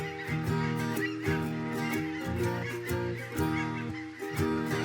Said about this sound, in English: Those geese are noisy.